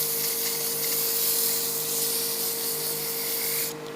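A whiskey tumbler glass spins on a lathe while 120 grit sandpaper rubs against it, making a continuous close raspy hiss over a steady motor hum, then cutting abruptly near the end.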